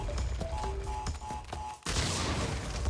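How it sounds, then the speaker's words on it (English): An explosion in the Crash Bandicoot N. Sane Trilogy game bursts in loud and broadband near the end, following a stretch of game effects and short tonal chimes. "I'll stop and listen to that explosion"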